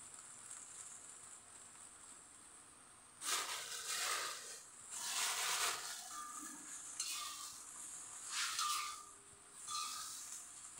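Boiled shredded chicken is stir-fried in a pan, giving soft sizzling bursts and stirring scrapes that come and go, fairly quiet and close, after a near-silent start.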